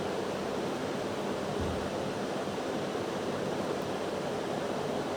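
Whole cumin, two dried chillies and two bay leaves sizzle in hot oil for a tempering, a steady, soft, hissing crackle with no talking.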